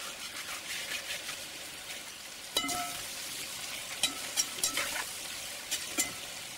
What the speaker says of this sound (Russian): Постоянно помешиваю